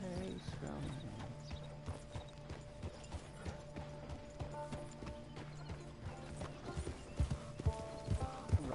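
Horse hooves clip-clop at a steady riding pace in a PS4 video game as a scrawny nag is ridden, the rhythmic thuds running under a voice and tonal game sound throughout.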